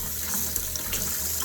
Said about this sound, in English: I'm going to throw it in the sink and rinse it off while I water it at the same time